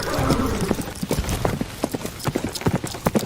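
Horse hooves clip-clop in a steady, fairly close trotting rhythm, with sharp knocks standing out over a dense, noisy background.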